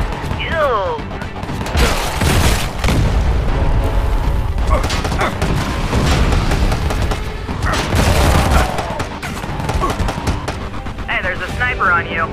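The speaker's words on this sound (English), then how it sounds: "RPG fire and kill." RPG rocket fire and explosions in the video game Sniper Fury, with repeated loud booms and bursts of gunfire crowding a dense battle, and a voice talking throughout.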